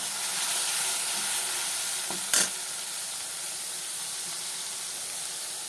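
Masala frying in a pan gives a steady, even sizzling hiss, with one sharp clink of the utensil partway through and no voices.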